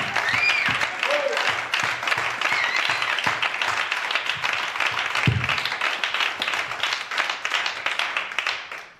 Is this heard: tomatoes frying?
no